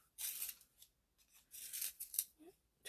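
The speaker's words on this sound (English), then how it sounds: "I gotta sharpen my pencil" A pencil being sharpened while a steampunk mixed-media journal is made: two bursts of close, quiet grinding and scraping, each lasting about a second, with a short pause between them.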